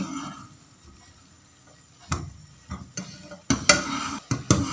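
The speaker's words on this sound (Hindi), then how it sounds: "खोए को दूध के साथ मिक्स करेंगे" A spoon stirring khoya into sweetened milk in a metal pot gives soft scraping, then a run of sharper clinks and knocks against the pot toward the end, close by with no talk.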